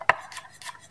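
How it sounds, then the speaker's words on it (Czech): A kitchen knife finely chops red onion, garlic and ginger on a board for an Asian-style roast duck dish, a few quick, close, crisp knife taps. "Nakrájíme všechno najemno."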